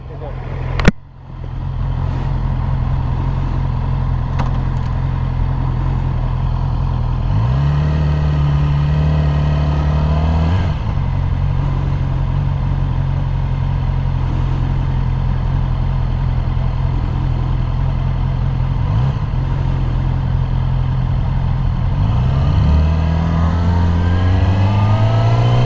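A Yamaha R6 sport bike idles and revs close by, with a few sharp throttle blips rising in pitch before it pulls away, the engine loud and continuous throughout.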